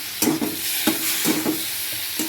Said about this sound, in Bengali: এবার এই মাছটাকে ভালো করে ভেজে নেব